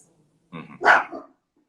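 A young puppy, a newly arrived female, lets out a short burst of barking, one quick yip followed by a fuller bark, close by and fairly loud, with quiet before and after.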